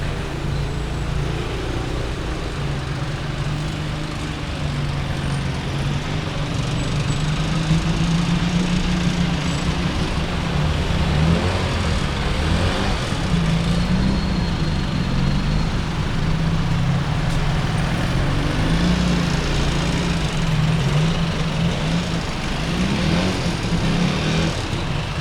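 Red songthaew trucks and other vehicles move through busy Chiang Mai street traffic, a continuous loud low engine rumble with shifting revving tones and no clear pauses.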